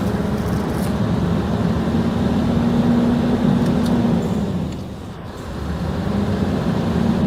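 A Scania R580 truck with a 15.6-litre V8 of 580 hp runs on a dyno to warm up its tires, giving a steady close low drone with a brief dip in level near the end.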